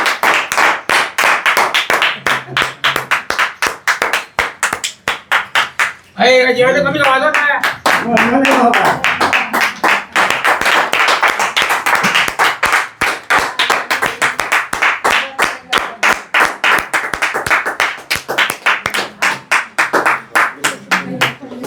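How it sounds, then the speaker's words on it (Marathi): An audience keeps up fast, rhythmic clapping in unison for a long stretch, loud and close, while a voice speaks briefly partway through. "आपण सगळेजण टाळ्या वाजवूयात एकदा"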